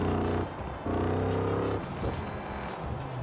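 A Ford F-100 pickup's engine in Forza Horizon 4 heard from inside the cab, a loud, steady low rumble that holds, dips briefly, then resumes with layered harmonic drone and some rougher texture toward the end.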